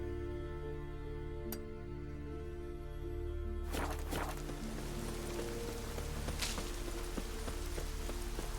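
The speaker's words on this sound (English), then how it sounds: "Looks like rain." Steady rain in The Witcher 3, a continuous broadband patter that swells noticeably partway through and stays loud and dense, with a low tonal hum underneath and no voices.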